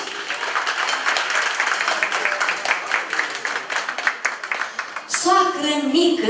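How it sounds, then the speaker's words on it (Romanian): Wedding guests applaud the bride's parents with dense, sustained clapping for about five seconds, then a voice or music abruptly takes over at the end. "Aplauze pentru socri mici!"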